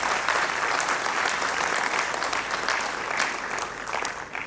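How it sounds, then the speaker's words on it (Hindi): A crowd at a Hindi poetry gathering breaks into loud, sustained applause, a dense wash of clapping that holds steady throughout without any voices. "मैं चाहता हूं एक बार इस संस्थान के लिए आप सब जोरदार तालियों के साथ।"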